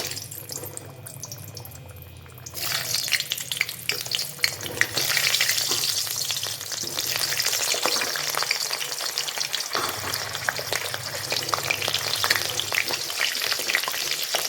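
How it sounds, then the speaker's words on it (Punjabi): Chopped onions drop into hot oil and a loud, close sizzle bursts out, then keeps going as a dense, steady crackling hiss for the rest of the stretch. "ਤੇਲ ਆਪਣਾ ਗਰਮ ਹੋ ਚੁੱਕਿਆ ਹੈ ਹੁਣ ਕੱਟ ਕੀਤੇ ਹੋਏ ਪਿਆਜ਼ਾਂ ਨੂੰ ਇਸ ਵਿੱਚ ਪਾਵਾਂਗੇ"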